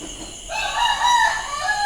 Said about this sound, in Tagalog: maingay ang mga manok at alauna ng madaling araw